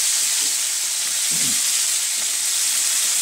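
Pork chops sear in hot oil in a pan, giving a steady, bright sizzle from start to finish with a brief low clatter partway through.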